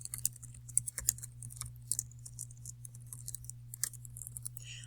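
Someone types a response into a text editor on a computer keyboard, with short bursts of light, uneven keystrokes over a low steady hum.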